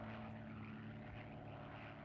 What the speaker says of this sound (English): the planes keep coming in